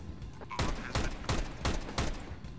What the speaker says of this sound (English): I shot the crap out of his back.